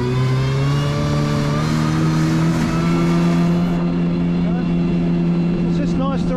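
A jet ski engine with a reflashed tune pulls away under throttle, its steady loud whine climbing in pitch as it accelerates, with someone talking over the engine noise.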